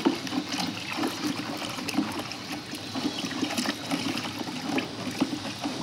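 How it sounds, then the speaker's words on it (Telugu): Liquid garden fertilizer made with cow dung is poured into two buckets, a continuous splashing, gurgling stream close by with no speech. "ఇప్పుడు అందుకే నేను ఈ 2 బకెట్లలో పోసుకుంటాను అనమాట"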